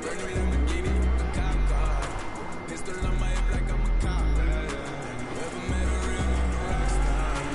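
Lamborghini driving in a video game: a steady engine roar with some tire noise, swelling and cutting out in bursts, while a voice talks over it.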